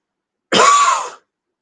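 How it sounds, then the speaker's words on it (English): A single forceful cough, a sharp breathy burst lasting under a second, close and loud, with silence before and after. "I take in air through my nose and I forcefully cough it out."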